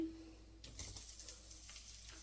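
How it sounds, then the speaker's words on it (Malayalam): Ginger, curry leaves and garlic fry in a hot pan, giving a faint, steady sizzle with a few soft stirring scrapes and no talking. "അല്പം വെളുത്തുള്ളി, ഇതൊക്കെ ഇട്ടൊന്ന് മൂപ്പിക്കുക."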